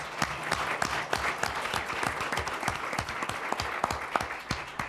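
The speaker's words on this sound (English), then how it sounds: "Let's clap for our veterans." An audience claps for veterans at a government opportunities business event. Individual claps come through as sharp, fairly dense bursts from a moderate crowd, steady and somewhat distant, with no speech.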